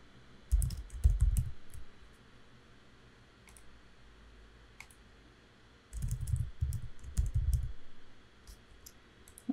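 Computer keyboard typing in two bursts of rapid clicking keystrokes, close and fairly soft, separated by a quiet gap with a few isolated key taps and no voices.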